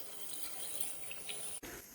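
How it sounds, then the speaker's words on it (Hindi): Water runs steadily from a kitchen tap into a pot for a chicken and chickpea curry, a continuous splashing stream that cuts off abruptly near the end, then a faint trickle. "और मजीद हम इसमें आधा गिलास हम और पानी ऐड करेंगे।"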